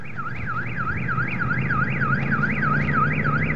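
A motorcycle security alarm sounds nearby, a loud, rapid warbling wail rising and falling about five times a second over low traffic rumble, with no talk.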